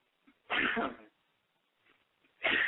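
Two sharp sneezes, a loud one early and another near the end, with a faint quiet breath between them.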